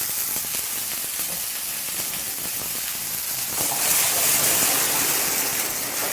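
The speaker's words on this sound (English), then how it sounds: "I do have a hot pan going here. And to that, I'm just going to add my frozen peas." Frozen peas hitting a hot pan give a steady broad hiss and sizzle that swells louder after a few seconds and keeps going, close up and with no talk.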